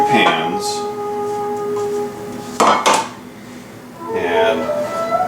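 Metal baking pans clank and rattle as they are picked up and set down, a sharp double clatter in the middle, with a person talking around it.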